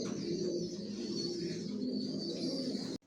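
Adult racer pigeons coo in a dense, close chorus of overlapping low, throaty calls that fills the whole short stretch.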